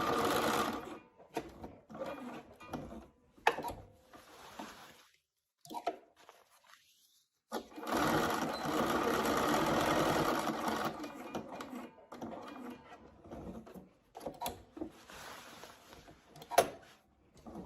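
A sewing machine stitches the curved fly piece of a garment, running in several bursts of steady whirring with pauses between, including one long continuous run, close and moderately loud with no talk.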